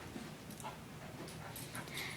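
A wet puppy just out of the bath makes faint, soft whimpers and quick panting breaths, heard close but quiet, with occasional thin high squeaks and no talking.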